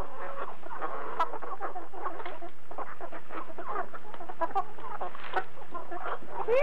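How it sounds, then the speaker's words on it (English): Farm chickens cluck and chatter continuously in a busy flock, with overlapping calls at close to moderate range and no talking. "I come out here and mess around with these chickens two and three times a day sometimes"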